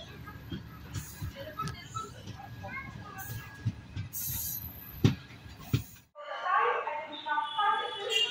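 The New Tambaram Jan Shatabdi Express rumbles along with rhythmic wheel noise and chatter for about six seconds, leaving Sirkazhi railway station, then cuts to a quieter carriage interior with voices.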